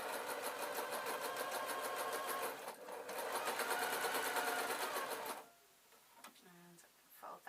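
A sewing machine stitches the last seam on gossamer fabric in a fast, steady, close-up whir that breaks off briefly, then resumes before stopping, followed by quieter handling and a few faint voice sounds.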